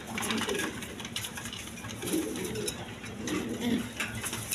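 Pigeons coo in repeated low throaty phrases about once a second, close and clear over a busy background clatter, with no one speaking.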